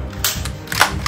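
Zuru X-Shot Dino Attack toy blaster firing, a couple of quick plasticky snaps and clacks close by, short and crisp with no talk.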